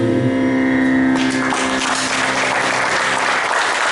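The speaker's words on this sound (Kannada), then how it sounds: "ಜೋರಾದ ಚಪ್ಪಾಳೆ" Loud, dense applause from an audience after a song fills the whole span, with a sustained held note fading out in the opening second.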